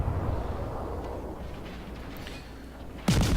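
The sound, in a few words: ship guns firing in video game World of Warships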